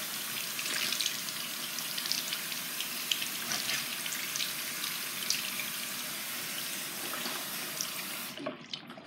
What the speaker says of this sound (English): I'm just gonna let that water drain out.